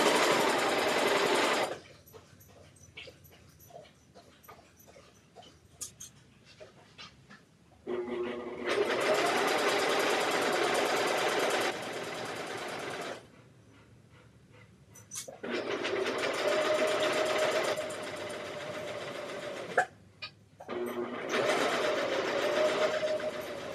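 Stitching a Rockford Raglan garment, a sewing machine runs in four loud bursts of steady whirring, with quieter gaps of handling and rustling between them.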